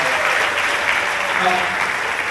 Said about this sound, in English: round of applause for this college